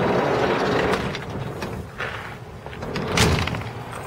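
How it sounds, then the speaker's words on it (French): The sliding side door of a 1976 Combi van rolls along its track with a steady rumbling slide, then shuts with a heavy thud near the end. It is loud and close, with no talking. "la porte latérale"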